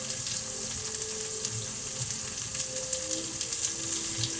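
Coriander sizzling in a hot pan for a curry, a steady close crackling fry with small pops and faint scrapes, no talking.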